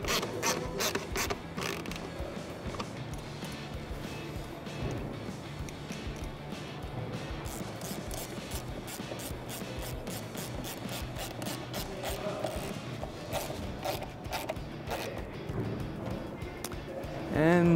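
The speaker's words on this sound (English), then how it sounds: "we got an 8 millimeter socket here at the two clamps on our throttle body." An 8 mm socket on a ratchet tightens the throttle body clamps of a Jeep Wrangler JL 3.6L while a cold air intake is fitted, the pawl clicking in rapid bursts close up under steady workshop noise.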